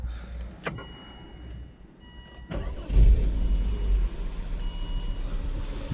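A Volvo S60 2.4 non-turbo petrol engine with a misfire cranks and catches after a brief starter whir, then settles into a steady, moderately loud idle rumble close by, with no speech.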